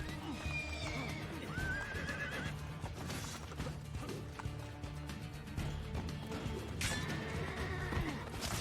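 A horse in the Assassin's Creed II video game whinnies several times over steady clip-clop hoofbeats. Game ambience runs continuously beneath it at a moderate, even level.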